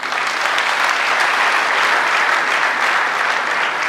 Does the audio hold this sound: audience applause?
yes